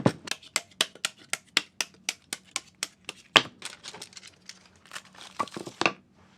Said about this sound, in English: Let's cut these out.